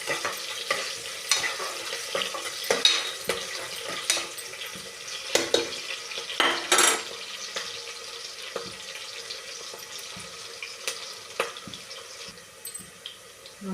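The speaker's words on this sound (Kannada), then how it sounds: "ಚೆನ್ನಾಗಿ ಉಳ್ಳಾಗಡ್ಡಿ ಕಂದು ಬಣ್ಣ ಬರುವವರೆಗೂ ಫ್ರೈ ಮಾಡ್ಕೋಬೇಕು" Onions frying for vegetable pulav, stirred in a pan with soft sizzling under repeated scraping strokes and occasional louder clatters, close and steady with no talk.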